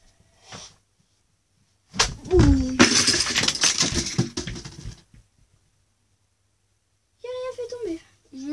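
A sword dropped and clattering down, a loud crashing, clinking burst lasting a few seconds with a quick vocal squeal at its start, followed by silence and then a short spoken exclamation.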